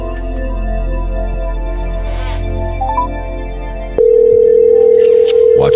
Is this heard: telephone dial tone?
yes